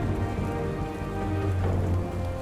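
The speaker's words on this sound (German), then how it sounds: "Es regnet." Steady rain falling outdoors on a mountain hiking route, a continuous dense patter on surfaces, close and even throughout with no voices.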